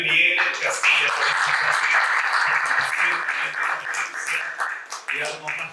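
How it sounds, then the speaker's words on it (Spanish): An audience at an energy-sector forum applauds a speaker, with dense clapping continuing throughout while a voice talks over it. "Reiteramos ese fuerte voto de aplauso, por favor, para Luis Miguel Castilla"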